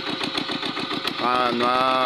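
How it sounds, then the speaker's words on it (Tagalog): A small engine-driven grinding or crushing machine runs steadily, its pulsing mechanical drone loud and close, with a rising tonal whine joining in partway through. "Dahil po sa makina maliit yung makina gamit niya."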